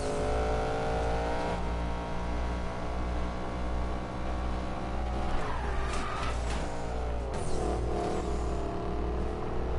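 Race car engine in a PS4 racing video game, a loud steady drone with rising and falling pitch as it drives and shifts, tires squealing briefly near the middle.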